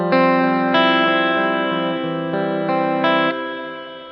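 Chords on an electric guitar with a chorus-like shimmer and plate reverb, run through an effects unit such as a GT-1 into the return of a Roland JC-120 amp, ring out and change every second or so.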